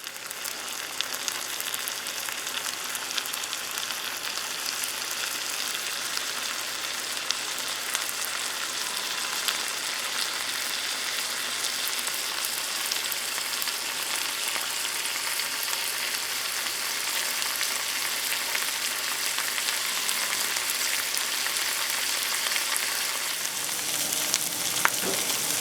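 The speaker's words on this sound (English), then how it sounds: "saute these, which is our peppers and onions that we seasoned earlier in the video" Seasoned peppers and onions sautéing in a pan give a steady, loud, close sizzle that runs unbroken throughout with no talking.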